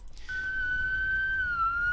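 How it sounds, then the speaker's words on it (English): An ambulance siren sound effect rings as one steady, thin high tone that holds for over a second, then dips slightly near the end, faint against a low background hum. "The ambulance is coming for him."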